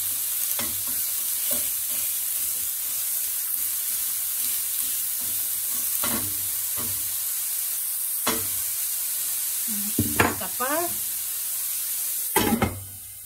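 Chorizo fries in a pan for huevo con chorizo, giving a steady low sizzle throughout with occasional spoon scrapes and stirs, plus a few sharper clinks near the end.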